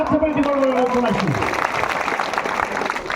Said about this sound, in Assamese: আমি তেখেতৰ প্ৰতি এটি সজোৰে হাত চাপৰি দিবৰ বাবে অনুৰোধ জনাইছোঁ।